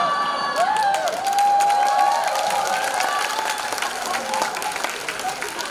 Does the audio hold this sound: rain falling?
no